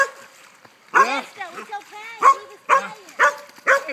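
A pet dog yips and barks in short, sharp bursts at close range, clustered in several loud outbursts amid excited voices after the dog has just helped rescue a person.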